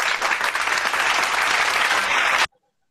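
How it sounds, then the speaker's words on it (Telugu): Steady clapping for children in a club session, a dense burst of applause lasting a couple of seconds before cutting off abruptly to silence. "లిఖిత మీ ఇద్దరికి కూడా స్పెషల్ క్లాప్స్"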